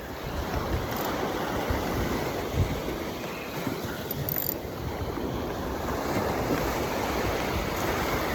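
Ocean waves wash against rocks at a rocky shoreline fishing spot in Saipan, a steady, fairly loud surf roar with wind buffeting the microphone throughout.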